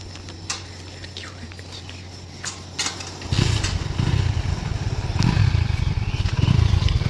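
A motorcycle carrying three riders travels through city streets in Jaipur on a hot afternoon. Its engine rumble begins suddenly midway and builds into a steady, close, buzzing drone with rushing wind noise. Faint clatters come before it.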